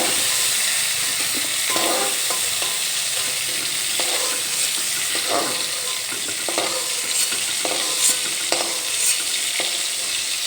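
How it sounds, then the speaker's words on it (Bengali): Cauliflower florets fry in hot mustard oil in a pan, a steady loud sizzle and hiss with occasional stirring scrapes throughout, close by and with no voices. "প্রায় চার পাঁচ মিনিটের মতো আমি ফুলকপিগুলো ভেজে নিয়েছি"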